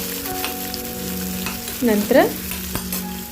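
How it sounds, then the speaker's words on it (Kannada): Chopped onion with curry leaves frying in oil and stirred with a ladle for an alasande and potato gojju, sizzling steadily and close, with scraping strokes and a short spoken word partway through. "ಈರುಳ್ಳಿ ಹಾಕಿದ್ಮೇಲೆ ಒಂದು ಸ್ವಲ್ಪ ಸೌಟಾಡಿಸಿ"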